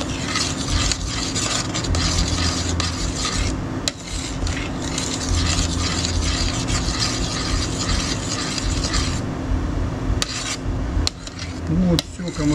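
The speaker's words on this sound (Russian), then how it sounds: "Зачем помешиваем? Помешиваем за тем, чтобы не пригорало." Steady scraping and grinding of a spoon stirring thick pectin gel in a pot, continuous and close for most of the stretch, with a few short pauses and clinks near the end.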